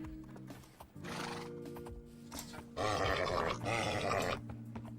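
A Minecraft horse neighs and whinnies loudly several times, with hoof clip-clops and grunts, and a long, rough whinny dominates the latter half.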